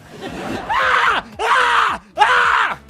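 Three loud, drawn-out screams in a row, each lasting about half a second with brief pauses between, close and harsh.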